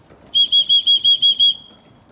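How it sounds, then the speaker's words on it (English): A pigeon fancier blows a whistle to call racing pigeons back to the loft: seven short, sharp, evenly spaced blasts in quick succession, loud and close, then a fading tail. "I only use the whistle, that's all they know."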